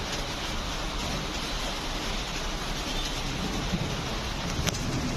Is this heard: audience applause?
no